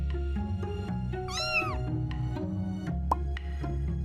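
Kittens give a clear, rising-and-falling meow near the middle, with a few fainter mews around it over a steady low hum.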